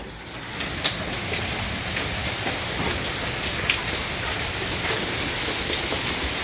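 Heavy rain mixed with hail pours down during a severe thunderstorm, a loud, steady broadband roar with scattered sharp hailstone impacts throughout, close by and without talk.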